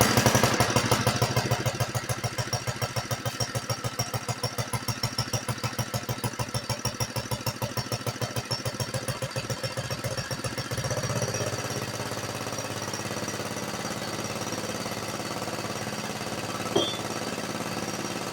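An 81-year-old Briggs & Stratton NR6 small engine runs close by with a rapid, rhythmic putting chug that slows and evens out into a steady, lumpy idle, with one sharp knock near the end.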